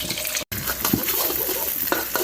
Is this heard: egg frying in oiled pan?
yes